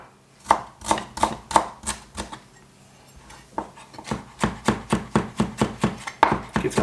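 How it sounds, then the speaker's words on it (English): Fresh ginger chopped with a kitchen knife on a board for an Indonesian-style sea bass curry, a long run of close, rhythmic knife strikes that pause briefly midway and then resume faster. "then we're going to chop up the ginger as well"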